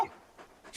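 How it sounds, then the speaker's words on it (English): Dog in the video game Final Fantasy XVI giving a short bark or yip, close and brief, ending in a sharp louder burst. "A big puppy, aren't you?"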